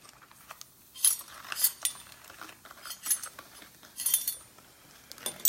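Yeast mixtures stirred in containers for a science fair experiment, with a steady run of light clinking and scraping of a utensil against the sides, close and moderately loud, repeated in quick bursts.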